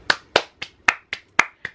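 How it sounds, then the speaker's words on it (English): Seven sharp hand claps ring out in a steady, fairly quick rhythm, close and loud with no talk over them. "We just pause and give Veronica a clap for that?"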